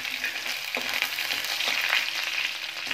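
Mustard seeds, cumin and crushed garlic fry in hot oil with a constant bright sizzle and crackle, broken by a few soft pops and stirring scrapes, close by and without talk.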